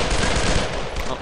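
Dense, continuous gunfire from soldiers in the World War II shooter Brothers in Arms: Road to Hill 30, a loud, sustained crackling rattle of rapid shots filling the whole short moment.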